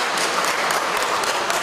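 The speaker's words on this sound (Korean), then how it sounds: "박수 한번 부탁드리겠습니다." A crowd applauds at a groundbreaking ceremony for the Bubal Hi-pass IC connecting road in Icheon, a dense, even wash of many hands clapping at once, loud and sustained throughout.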